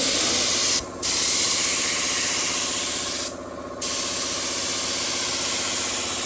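Spray gun laying a second coat of etch primer on an aluminium tinny boat hull: a loud, steady, close hiss of spraying, broken by two short pauses, with no talk.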